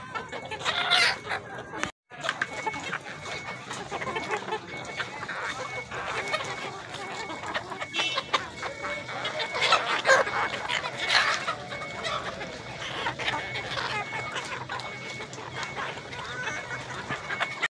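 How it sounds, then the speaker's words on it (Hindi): A Golden Misri hen clucks repeatedly nearby amid other fowl noises, with occasional louder calls and a busy farmyard background. "देखें जी ये ये हमारी मुर्गी"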